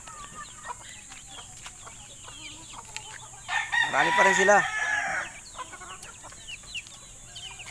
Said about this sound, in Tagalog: Ayan yung mga manok ko, yan.